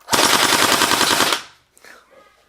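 Two gel blasters fire together in a loud, rapid, sustained burst for about a second, then stop, leaving a few faint clicks and handling noises.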